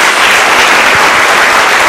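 A church congregation breaks into sustained applause for Jesus during a sermon on overcoming aggressiveness, dense steady clapping filling the space at full volume for a couple of seconds with no voices over it.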